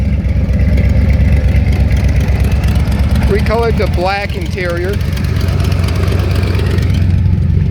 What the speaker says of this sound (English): Nice healthy rumble to the exhaust.